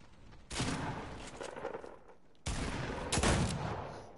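Gunfire in a sniper video game comes as two rapid bursts of shots, each cutting in abruptly and lasting over a second, with a quieter gap between them.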